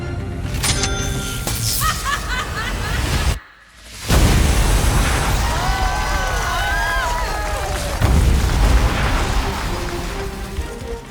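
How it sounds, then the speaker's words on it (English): A competition LEGO build is set off in a staged explosion meant to blow its front apart. After a brief hush, a sudden loud burst is followed by busy, sustained crashing noise. "We're hoping the explosion will give a closing to our story."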